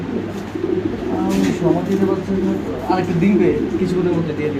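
Pigeons coo steadily in low, throaty rolling calls at a crowded pigeon market, several birds overlapping close by while people talk in the background throughout.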